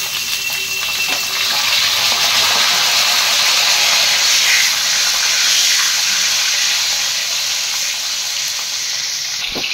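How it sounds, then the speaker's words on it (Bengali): Potatoes frying in a pan of oil, a loud, steady broadband sizzle and hiss that holds evenly throughout without pause, close up. "দেখো আলুটা ভাজা হচ্ছে।"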